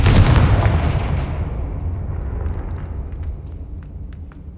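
The Confringo fire blast spell in Hogwarts Legacy sets off a single loud, booming explosion. A rumbling tail fades out over several seconds, and faint crackles follow.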